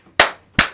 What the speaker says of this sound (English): Do the clap.